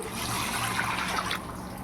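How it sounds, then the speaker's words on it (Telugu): Water runs steadily into a pot of rice for prawn biryani, a continuous trickling splash that cuts off near the end, leaving a softer hiss. "ఇప్పుడు నీళ్ళు కూడా వేసేసుకుందాం"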